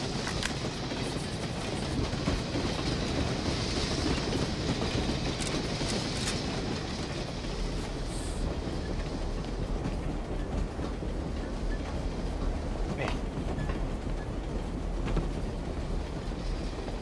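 A train in the shooter game UberSoldier II rumbles steadily, with continuous rolling rail noise and faint clattering that stays at an even level throughout, with no voices.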